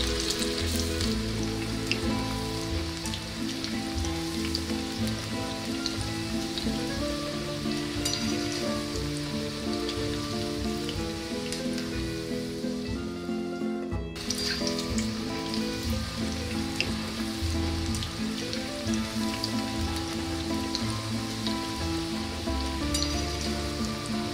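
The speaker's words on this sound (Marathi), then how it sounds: "अशा प्रकारे सर्व पालकची भजी तळून घ्या" Spinach pakoras deep-fry in hot oil with a dense, continuous bubbling sizzle that stays steady and close throughout, with a brief dip in the middle and no voices.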